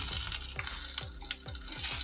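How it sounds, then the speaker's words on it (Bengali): Whole cumin seeds drop into hot oil already seasoned with dried chilli and bay leaf, giving a steady close sizzle with repeated scraping stirs of a spoon against the pan. "এবার গোটা জিরেটা দিয়ে দিচ্ছি।"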